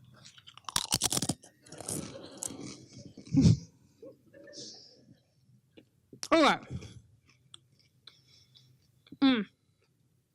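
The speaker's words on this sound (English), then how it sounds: "I never realized how long it took to chew a Dorito until I had an audience of people staring at me" Dorito chips are chewed right against a microphone, giving several loud, close crunching bursts spaced a few seconds apart with quieter chewing and clicks between; a voice speaks briefly.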